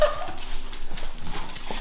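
Dogs scamper out with quick, light paw patter and some jingling, a brief burst of movement close by with no talking.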